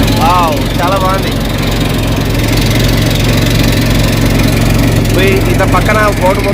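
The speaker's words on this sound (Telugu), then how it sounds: "ఇంత పక్కన బోటు పోతుంది కదా" A motorboat engine runs steadily on the river at Kashi, a loud, close, continuous throbbing drone under people talking nearby.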